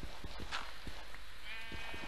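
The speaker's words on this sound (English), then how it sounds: "Can I kill this sheep like this?" A sheep bleats in Minecraft, a short nasal bleat heard amid soft footsteps and game ambience.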